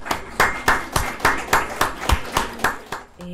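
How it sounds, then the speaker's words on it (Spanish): An audience at a social management seminar claps to welcome a group, heard as steady, evenly spaced claps in a close, regular rhythm that stop abruptly at the end. "queremos recibir a este grupo con un fuerte aplauso"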